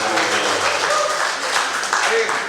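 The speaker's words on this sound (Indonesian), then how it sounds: "Tepuk tangannya mana?" An audience at an MKGR inauguration ceremony in Lebak, Banten claps in a broad, steady burst of applause that holds at a moderate level throughout, with voices mixed in.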